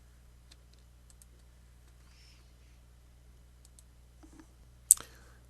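Computer mouse clicks: a few faint, sharp clicks scattered over a quiet room hum, ending in one louder, crisper click near the close.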